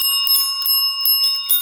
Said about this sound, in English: If you were waiting for someone at a desk or a counter, you would ring a bell.